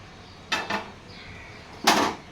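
Roasted dal being scooped out of a pan while making homemade sambhar powder: a few close metallic scrapes and clatters of a utensil on the pan, two quick ones then a louder one after a pause, with no talking.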